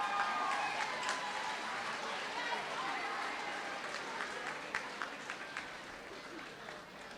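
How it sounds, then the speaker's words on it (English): Audience applause for students at an 8th grade awards ceremony, a steady wash of many hands clapping across the whole stretch, with occasional louder claps standing out near the end. "Please give these students a round of applause."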